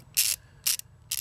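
A spark plug socket ratchets a new plug into the cylinder head of a Renault Twingo 1.2 16V engine, giving three short, close clicking bursts with quiet pauses between them.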